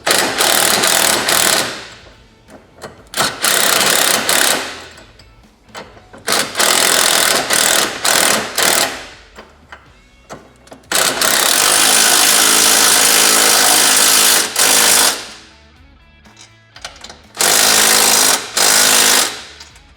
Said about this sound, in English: So next we're just going to go ahead and fully tighten our U-bolts.